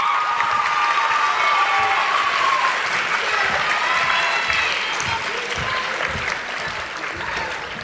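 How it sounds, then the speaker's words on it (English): A crowd of guests applauds at a Manatee High School JROTC awards ceremony, sustained and loud for several seconds before easing slightly toward the end. "Please join me in a round of applause for Charlie Company."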